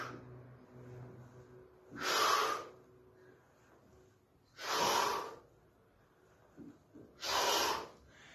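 Three strong, breathy exhales during sit-ups on a mat, evenly spaced roughly every two and a half seconds, close to the microphone and otherwise quiet.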